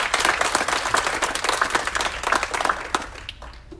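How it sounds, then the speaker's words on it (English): A room full of guests applauds at the Aurora Police swearing-in ceremony, with steady, fairly loud clapping from many hands that runs throughout and tapers slightly near the end. "Can you give a round of applause?"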